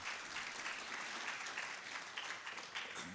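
Steady applause from an audience at an HIV service delivery integration summit session, a dense continuous patter of many hands clapping at moderate level without a break.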